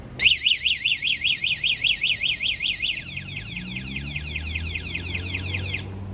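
A 2017 Honda PCX150 scooter's anti-theft alarm wails in a rapid warbling siren, about a dozen loud close pulses, then shifts to a steadier chirping tone over a low idle-like rumble before cutting off.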